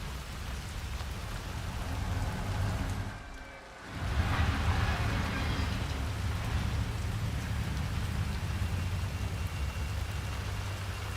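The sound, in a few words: rain in Hitman 3 video game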